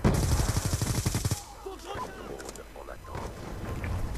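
A sentry turret in Black Ops 2 fires a rapid, loud burst of automatic gunfire for about a second and a half, followed by quieter game sounds and distant shots.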